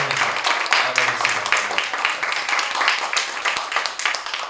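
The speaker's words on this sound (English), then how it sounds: "Can we get a second applause for Jennilee" An audience applauds for Jennilee at a Filipino-Canadian literary festival panel, a steady wash of many hands clapping throughout, with some low voices murmuring underneath.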